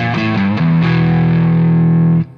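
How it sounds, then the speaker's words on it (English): Electric guitar through a half-distorted amp and overdrive pedal: a few quick picked notes, then a loud sustained chord ringing with gritty crunch before cutting off. "It's just the half-distorted amp, the half-distorted pedal, the sweet spot on anything."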